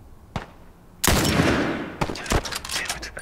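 Gunfire in The Last of Us Part II: a sharp early shot, then a loud blast with a long decaying tail, followed by a burst of several quick shots in succession.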